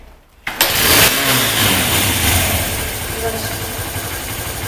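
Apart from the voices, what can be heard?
Honda Ape 100 motorcycle kick-started, engine starting and idling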